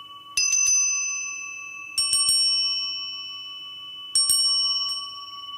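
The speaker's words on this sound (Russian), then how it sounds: "Тибетские колокольчики" Small high-pitched Tibetan handmade bells ring in three clusters of bright strikes, each leaving a long, pure shimmering tone that slowly fades.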